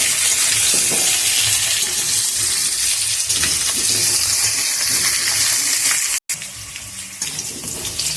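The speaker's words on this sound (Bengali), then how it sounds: "ওই তেলেই আমি আলুগুলো ভেজে নিচ্ছি। আলুগুলো একটু লাল করে ভেজে নেব।" Potatoes fry in oil left over from frying fish, giving a loud, continuous rushing sizzle that drops out briefly near the end before resuming.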